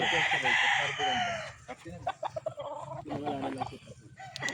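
A lemon brood stag rooster crows once, loud and close, then clucking and chicken calls continue in short, uneven bursts with some background voices.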